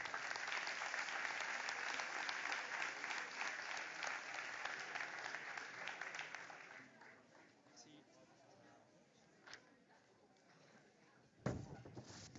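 An audience at an awards ceremony for local sports trophies applauds loudly and steadily for several seconds, then the clapping thins out and dies away, leaving room noise and a few scattered claps near the end.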